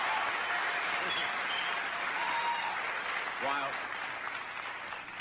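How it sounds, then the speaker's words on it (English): Steady applause from a television studio audience at The Tonight Show fills the clip, with a voice briefly speaking over it near the end. "I accept that applause for all the members of The Tonight Show"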